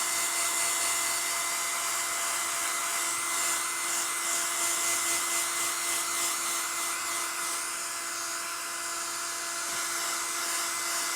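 A hair dryer blows steadily over watercolour paper, a loud continuous whirring roar with a constant motor whine, close and uninterrupted throughout.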